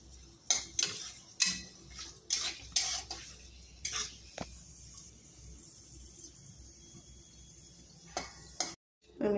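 Spices fried in a pan without salt: irregular scrapes and clinks of a utensil against cookware over a faint, steady sizzle, close and with no talk.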